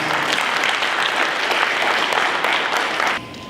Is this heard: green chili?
no